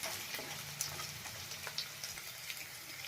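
Green chillies and ginger sauté in a pan with a soft, steady sizzle, with small ticks and clicks of stirring scattered throughout, close and fairly quiet.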